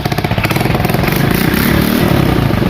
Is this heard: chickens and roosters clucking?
no